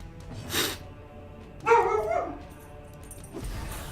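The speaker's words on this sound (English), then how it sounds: "Pardon me while one of my dogs goes briefly insane." A house dog barks and yelps in short, wild bursts at moderate distance, with a few separated outbursts over a quiet indoor background and no speech.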